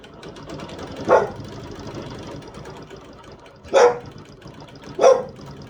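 A pet dog barks three times, spaced seconds apart, over a steady mechanical hum during machine quilting of a stitched quilt design; the barks are moderately loud and nearby, with no talking.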